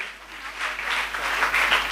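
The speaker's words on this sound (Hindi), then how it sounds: "तालियां होनी चाहिए" Audience applause at an inspirational speech and awards event: a short, dense wash of many hands clapping, steady and fairly loud, swelling slightly toward the end.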